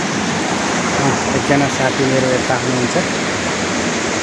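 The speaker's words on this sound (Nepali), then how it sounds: "झरनामा, एकदम राम्रो देखिराख्नु छ झरना" A waterfall on a rocky mountain trail gives a steady, loud broadband roar throughout. Someone talks over the rushing water partway through.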